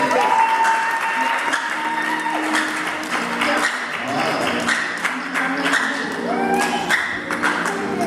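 Congregation at a baptism service applauding steadily for about eight seconds, a dense wash of many hands clapping close by, with scattered voices and cheers mixed in.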